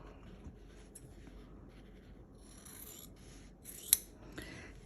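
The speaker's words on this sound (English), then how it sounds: "I'm just gonna take some scissors and cut off those corners" Scissors snipping the corners off quilting fabric, quiet close crisp cuts with soft rustling of cloth and one sharper snip near the end.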